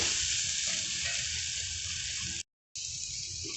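Onions frying in a pan for a beef and tapioca biryani base, a constant soft sizzle and hiss with faint stirring, briefly cutting out before resuming at the same quiet level.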